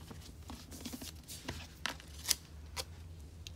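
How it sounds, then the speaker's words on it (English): Scissors snip through a sticker on a planner page, several soft, close cuts with faint paper rustling in a quiet room. "Maybe I'll add this one and cut it off."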